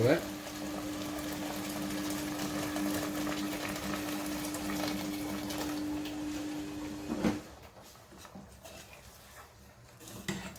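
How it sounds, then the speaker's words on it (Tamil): Water bubbles at a steady simmer in a pot of chicken gravy, with a constant low hum behind it for most of the clip before it quiets down near the end. "இப்போ இதை நல்லா கொதிக்க விட்டு"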